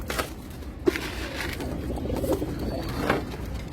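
Pigeons and squabs in a pigeon loft give soft low cooing with a few brief calls, close by over steady background noise.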